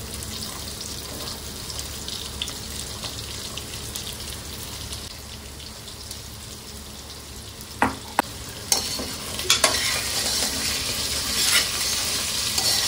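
Potatoes and carrots fry and sizzle in a pot as they are stirred, with a steady crackling hiss and a few sharp scraping clinks from the spoon against the metal.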